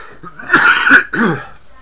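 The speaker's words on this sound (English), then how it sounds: "It's a bad cough, tearing the throat off me." Two harsh, rasping coughs from a chest infection close to the microphone, the first longer and rougher, followed by a shorter second bark.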